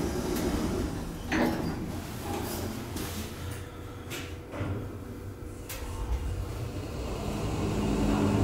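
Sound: Schindler elevator doors sliding closed

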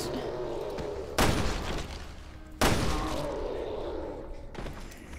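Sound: gunshots in the video game Resident Evil: Revelations 2

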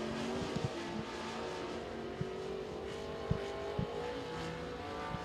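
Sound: race car lapping Senoia Raceway in qualifying

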